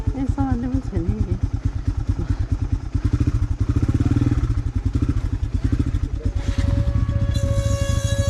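A motorcycle engine runs steadily at close range on a trip out to waterfalls, its low drone holding throughout with a brief rise near the end, while voices talk over it.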